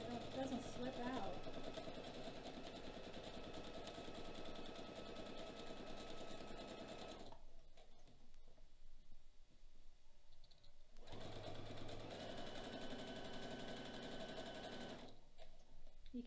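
A sewing machine stitching a decorative pillow case with a steady, fast mechanical whir and ticking. It stops twice for a few seconds and then starts again, and a voice talks faintly throughout.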